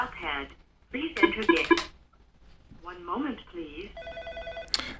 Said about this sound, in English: again, this phone is ringing,